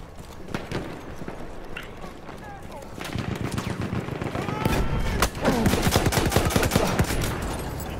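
Rapid video game gunfire with bullets smacking into sandbags, bursts of shots growing denser and louder over the span, close and sharp with a faint voice beneath.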